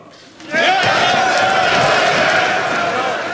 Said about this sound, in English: As they clapped and cheered